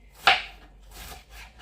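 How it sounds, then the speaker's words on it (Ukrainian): A knife chops cabbage for borscht: one crisp, sharp cut lands near the start, followed by a couple of softer, fainter strokes, with no talking. "Так, нарізаємо капусточку."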